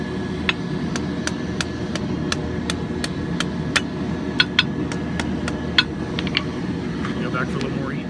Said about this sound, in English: You can true it up with the hammer.